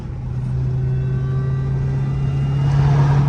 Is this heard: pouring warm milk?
no